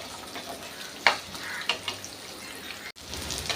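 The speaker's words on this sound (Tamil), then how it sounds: "இந்த தேங்காய் வெங்காயம் எல்லாம் கொஞ்சம் சவக்கிற மாதிரி வறுத்துக்குங்க" Grated coconut and onion fry in a pan for a Tamil grape vatha kuzhambu, giving a steady close sizzle with a few sharp scraping stirs and one brief cut near the end. No one speaks.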